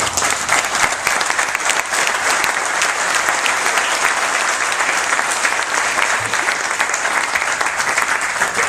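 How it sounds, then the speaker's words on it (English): Sustained audience applause fills a refinery sale celebration, a dense, steady clapping from a large crowd that holds at full strength without pause, with no voices standing out above it. "I don't think I have to say anything more because the applause says it all"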